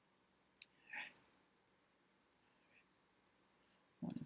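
A few sharp computer mouse clicks, with a quick pair near the start and a denser burst at the end, set against a quiet room with faint stray sounds in between.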